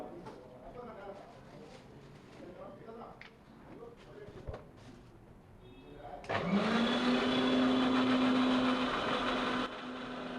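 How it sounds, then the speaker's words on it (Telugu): Voices and clatter, then a mixer grinder starts blending a milk mixture with salt, a loud, steady whirring hum that runs continuously to the end. "సాల్ట్ కూడా వేసి వాటిని మిక్సీ పట్టిస్తారు బ్రదర్, వీటిని కూడా మిక్సీ పట్టేది."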